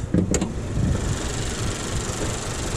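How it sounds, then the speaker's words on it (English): A Honda Accord Touring's 2-liter engine runs with a steady, even hum that sounds close and fairly loud, with a brief brighter rattle near the start and no speech. "Here's their tried and true 2-liter engine."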